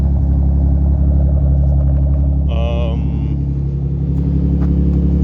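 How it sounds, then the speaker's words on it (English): A turbo BMW E36 sedan idles while warming up on a snowy December day, its engine holding a steady, loud, low rumble close by, with a brief higher chirp partway through. "I'm just warming the car up now, getting ready to leave"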